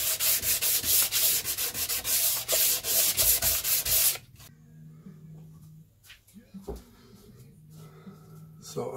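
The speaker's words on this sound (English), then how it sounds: "I made a convex shape in a sanding block. So I'll use 240 grit to start with" A guitar part is sanded by hand with 240 grit on a convex sanding block, loud rhythmic scratchy rubbing strokes for about four seconds, then stopping to quieter handling noises.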